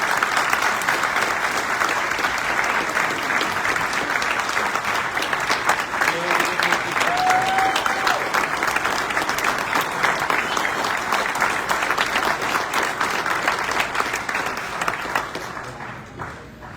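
Sustained applause from a large assembly audience at a veterans' organization general session, dense and steady for most of the stretch before tapering off at the end.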